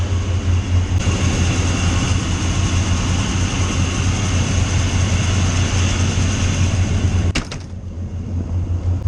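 A Luhrs 28 boat's engine idles with a steady, loud low rumble and constant vibration, holding evenly before dipping briefly near the end; the fuel pump is vibrating excessively.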